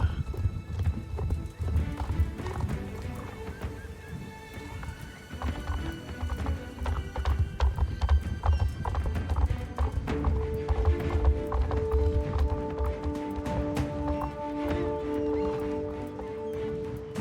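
Rapid, continuous hoofbeats of a horse galloping in a video game race, with game-like music droning underneath, the pounding rhythm steady and close throughout.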